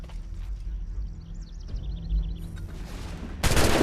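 Gunshots in the video game Assassin's Creed III: a sudden loud, sharp blast near the end, following a stretch of quieter in-game ambience.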